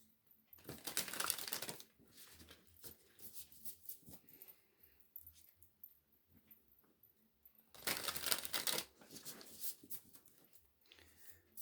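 Black Moon astrology cards being handled close by, soft crinkling and shuffling bursts separated by quieter rustles, with faint background noise.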